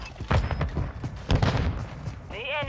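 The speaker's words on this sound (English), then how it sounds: "Taking effective fire!" Gunfire in a video game battle on the Scrapyard map: loud, close bursts of shots in quick clusters, followed by a brief rising electronic whine at the end.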